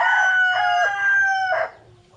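A rooster crowing twice in quick succession, loud and close, each call a drawn-out cock-a-doodle-doo, with a quiet low background hum after the second.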